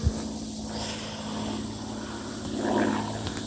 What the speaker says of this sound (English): then a damn plane flies over